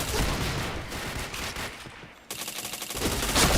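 Rapid automatic gunfire from a video game fills the whole stretch, loud and continuous bursts with a brief lull before a fresh volley starts up.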